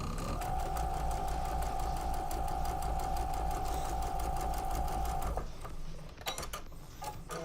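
A sewing machine runs steadily while stitching quilt blocks together, a close, loud, continuous mechanical whir with a rapid ticking rhythm that stops after about five seconds, leaving faint handling noise.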